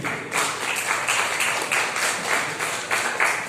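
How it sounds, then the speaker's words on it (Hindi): Sustained audience clapping at a foundation event, many hands in a steady, fairly loud patter with slight rhythmic surges, no voices over it. "तालियां बजती रहनी चाहिए।"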